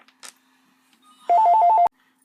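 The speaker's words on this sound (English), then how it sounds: "Why does the phone have to ring just when I have to do something?" A telephone rings indoors in a home craft office, one burst of rapid trilling bell pulses lasting about half a second, loud and close in an otherwise quiet room, with a faint click just before it.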